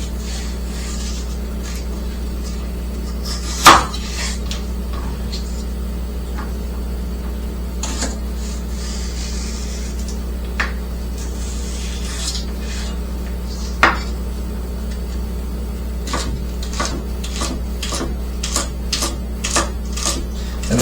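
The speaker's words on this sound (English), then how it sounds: "So I'm going to cut it in half first. And then I'll cut those halves into more halves." A knife cuts vegetables into halves on a cutting board for a chickpea salad, giving scattered soft taps and rubs that turn into quicker, regular chops near the end, fairly quiet over a steady low room hum.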